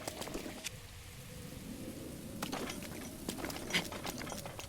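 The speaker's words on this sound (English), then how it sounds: "we're basically going to camp out until the rain stops" Rain falls steadily in Breath of the Wild, with a soft, even patter and faint rumbling beneath it and scattered brief ticks on top, fairly quiet and with no talking.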